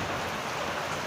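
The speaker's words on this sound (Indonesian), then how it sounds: "Udah selesai malah hujan nih kayak gini" Rain falls steadily, a dense, even hiss of drops on surfaces close by, loud and uninterrupted for the whole brief moment with no voices.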